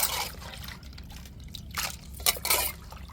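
Cleaned prawns and crab being rinsed in water, with splashing and trickling in short bursts, the loudest near the end, close by over a steady low background hum.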